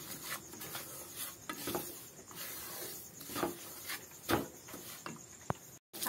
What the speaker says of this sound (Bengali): কমিয়ে এইভাবে সুজিটাকে আমি অনবরত নেড়ে ভেজে নেব